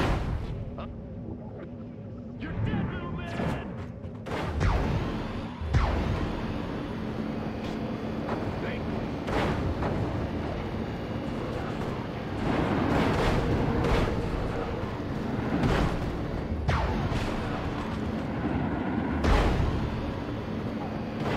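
Gunfire and explosions crackle and boom through a battle in the video game Destroy All Humans, with sharp blasts scattered over a constant dense rumble of combat noise.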